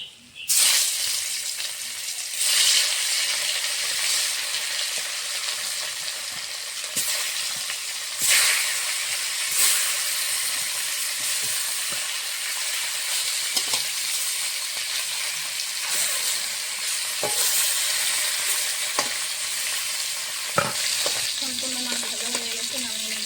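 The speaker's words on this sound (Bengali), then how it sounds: "বাকি মাছগুলো এইভাবে ভেজে নেবো" Small rohu fish (charapona) fry in hot oil, a loud continuous sizzle and hiss with occasional sharp crackles and spatters, some brief utensil clinks, and a voice heard faintly near the end.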